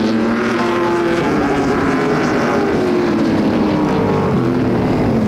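Vintage modified race cars lapping a short oval speedway, loud continuous engine roar with droning tones that shift in pitch as cars pass, mixed with wind buffeting on the microphone and no talk.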